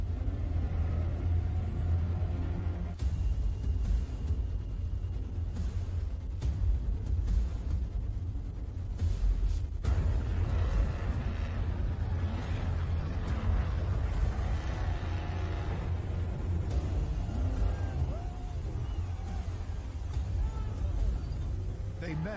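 Off-road race truck at the 2019 San Felipe 250 pulling away after being stuck, a heavy engine rumble churning continuously with surges and roaring bursts, close and loud, mixed with crowd noise and talk.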